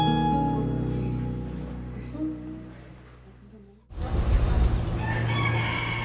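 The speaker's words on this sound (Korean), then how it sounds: "닭 울음소리가 참 정겨운 동네." A village rooster crows loudly and close in a long drawn-out call, followed by a burst of clucking and general fowl noise, with no speech.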